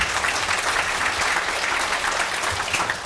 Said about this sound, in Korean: 여러분 같이 힘 모은다는 차원에서도 뜨겁게 박수 한번 하고 가시죠